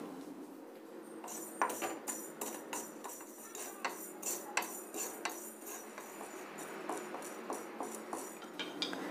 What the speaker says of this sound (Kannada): ಮೆಂತ್ಯ ಸ್ವಲ್ಪ ಫ್ರೈ ಆಗಿದೆ.